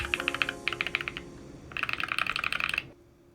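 Typing on an Owlab Voice mini mechanical keyboard with PE foam: two quick bursts of crisp, muted keystrokes, close and clear with no hollow ring, separated by a brief pause.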